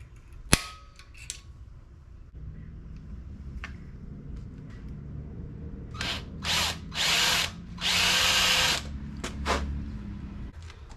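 A power drill whirs in several short bursts and then one longer run, close and loud, drilling holes in Model T door parts, after a stretch of quiet clicks and knocks.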